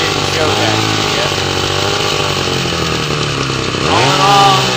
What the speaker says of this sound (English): All in all, it's a decent running saw.